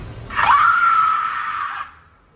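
A loud, sustained scream from inside a horror attraction, rising sharply then holding steady for over a second before fading, heard alone without talk.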